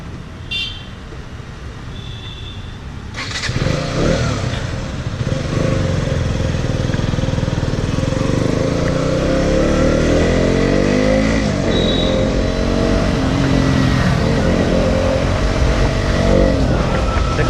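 A KTM Duke 125 motorcycle engine and exhaust pull up and hold a steady, buzzing drone while riding through city streets after a petrol fill, close and continuous with gear-change swells and no talk.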